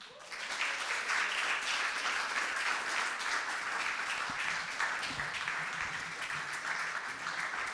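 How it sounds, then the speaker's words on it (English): Sustained applause from a sizable poetry slam audience, steady dense clapping that swells in quickly and holds for several seconds. "So please give a big round of applause to"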